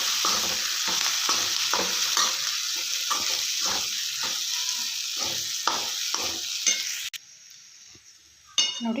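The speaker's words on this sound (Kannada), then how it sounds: "ಇವಾಗ ಸಾಬೂದಿನ ಹಾಕ್ಕೊಳ್ಳೋಣ. ಚೆನ್ನಾಗಿ ಮಿಕ್ಸ್ ಮಾಡ್ಕೊಳ್ಳೋಣ." Sabudana (sago) is stirred in a hot pan, with a steady sizzle and repeated scraping strokes of a spoon at an even rhythm. Near the end the sizzle drops away, followed by a brief clatter.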